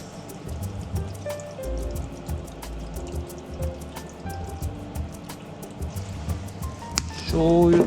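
Soy sauce pours into a pot of cut pork cartilage as a soft liquid trickle. Talk runs through it, and a louder splashing rises at the end.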